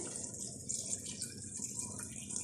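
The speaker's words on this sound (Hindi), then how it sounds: "ये चिकन स्टॉक इसमें डालेंगे" Chicken stock, about three to four glasses, poured into a pot of winter vegetable pulao, giving a soft steady stream of liquid that runs without a break and stays fairly quiet.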